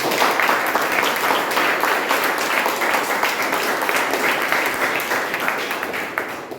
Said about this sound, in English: Let's clap for today's meeting.